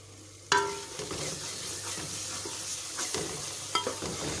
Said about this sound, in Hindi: इसको अच्छी तरह भून लेंगे ताकि ये जो टमाटर हैं वो बिल्कुल ही इसमें घुल जाएं, पेस्ट बन जाए।